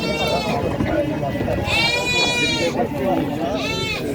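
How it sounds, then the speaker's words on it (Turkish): Sheep and goats bleat repeatedly at a livestock market in Xaçmaz. Several loud, wavering cries rise above a busy background of crowd chatter and people talking. "Bugün 11 may 2025-ci il Xaçmaz qoyun bazarındayım."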